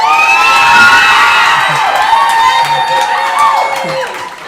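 A crowd cheers and whoops loudly and steadily throughout, with high children's voices shouting over the din, as fans salute a girls' soccer valedictorian.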